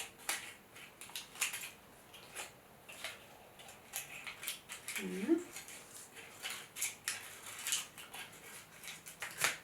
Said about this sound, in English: So I'm going to cut it like little petals.